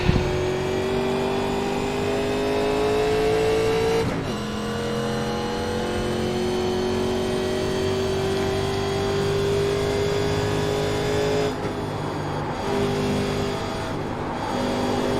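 A 1987 NASCAR Legends race car engine drones loudly and steadily in the iRacing simulator at Chicagoland, holding a sustained high-revving pitch that drops sharply at shifts and then climbs again.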